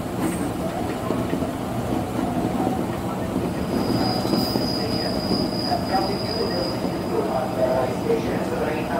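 A KRL Jabodetabek commuter train runs with a steady rumble and rattle of cars on the rails, and a thin, high wheel squeal rises midway and holds for several seconds.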